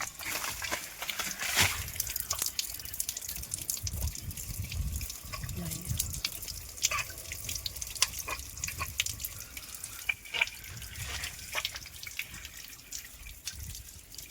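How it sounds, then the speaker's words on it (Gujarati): Water is poured from above and runs off as muddy water in a village, making a soft, continuous splashing and dripping with scattered sharper drops, while people talk intermittently over it. "અને ઉપરથી આપણે પાણી નાખી છીએ."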